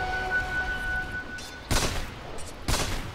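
Two sharp gunshot blasts from a sniper rifle in the Dota 2 video game, spaced about a second apart, loud and close after a quieter stretch of low hum and tonal game sound.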